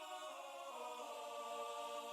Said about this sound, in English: And I added some keyboards because you need keyboards.